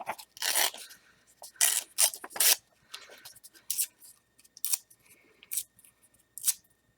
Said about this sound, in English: I'm just ripping all the way down the page.